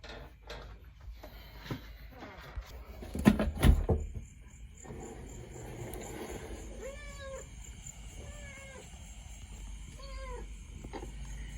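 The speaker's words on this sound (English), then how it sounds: "As I hear my cat's Ricky calling" A cat calls out with a few drawn-out meows from a third-floor window during the rainy season. The meows are spaced apart over a steady background hiss, with some brief clattering just before them.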